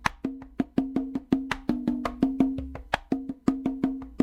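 Bossa nova intro played on clave and congas: a steady, crisp percussive pattern of evenly spaced sharp hits over a sustained low drum tone, repeating throughout without any voices.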